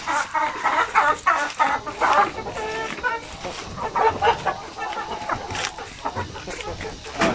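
Native chickens and roosters in a backyard coop setting, a close, busy chorus of clucking and squawking calls overlapping throughout.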